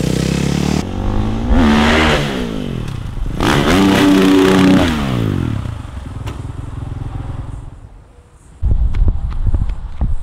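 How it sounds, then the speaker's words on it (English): A dirt bike's engine revs hard and close, rising and falling in pitch through a few throttle bursts, then settles and fades before clattering knocks and thumps near the end. "Every time I see Barry on a dirt bike"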